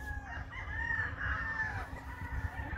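A rooster crows loudly and steadily, with breeding hens clucking underneath in a busy, close farmyard.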